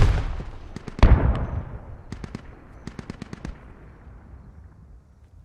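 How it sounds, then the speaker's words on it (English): Distant tank shells from across the map explode in the Squad video game, a heavy boom near the start followed by clusters of sharp, crackling impacts that fade out. "Tank shells coming in from across the map, I believe."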